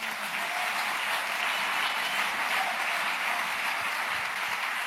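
A church congregation at an evening service claps in sustained, dense applause, a steady wash of many hands from start to finish with no clear voices.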